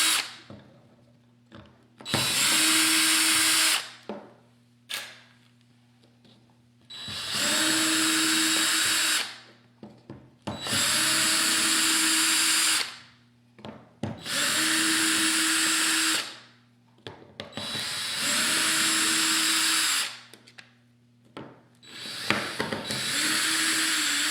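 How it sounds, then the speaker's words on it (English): A power tool driving out screws from the handle of a Dupray Neat steam cleaner, whirring in five or six loud bursts of a few seconds each, separated by short pauses with faint handling clicks. "we'll begin by removing the rest of the screws"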